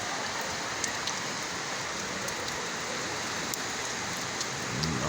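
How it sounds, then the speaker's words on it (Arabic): Heavy rain falls across a residential area in a stormy winter downpour, a thick steady roar of water with occasional sharper drops and splashes close by. "أمطار الخير والرعد والبرق في السماء."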